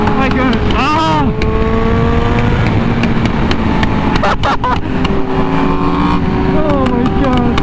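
A Honda Fireblade RR-R SP motorcycle with an SC Project exhaust screams at high revs, its tone stepping through quick shifts with crisp pops on the changes, loud and close, while a rider's voice cuts in briefly.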